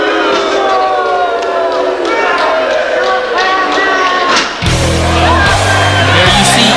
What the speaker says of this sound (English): And the crowd didn't like that.